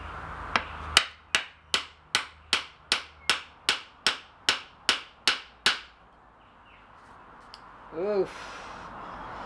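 Hammer blows drive a hardwood wedge into the handle of a Mastermyr-style adze, about fourteen sharp, evenly spaced strikes at close range, then silence with a brief scrape near the end.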